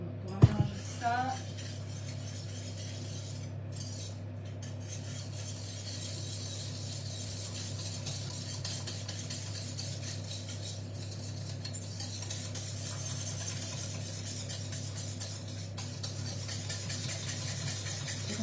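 A whisk stirring Christmas biscuit batter with milk in a bowl, a continuous light scraping and clinking under a steady low hum, with brief louder knocks at the start.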